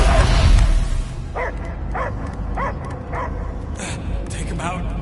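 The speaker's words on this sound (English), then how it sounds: "I hear only barking." A dog barks in a Guardians of the Galaxy video game scene, a string of short barks and yips repeating at a steady pace over a low game soundscape.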